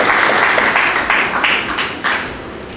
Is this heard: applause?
yes